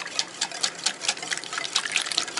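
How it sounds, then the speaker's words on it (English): Milk mixture trickles slowly into a bowl of egg and sugar while the mix is stirred constantly, giving a soft, continuous close-up wet splashing and swishing with no speech. "this milk mixture just to temper this egg mixture because we do not want to scramble the eggs"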